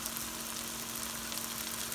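Tomatoes with turmeric, chili powder and garam masala sauté in a pan for crab roast, giving a steady, close frying sizzle with a constant low hum throughout.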